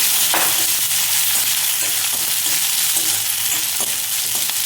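Green chillies fry in a pan, giving a loud continuous sizzle close by, with occasional faint stirring scrapes and no voices.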